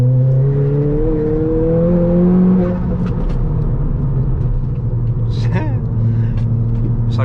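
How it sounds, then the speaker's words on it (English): A Ford Fiesta ST180 with an RT330 turbo drops into third on a rev-matched downshift with a quick rev blip, the pitch rising and settling into a steady drone, close and loud. "Rev match into third."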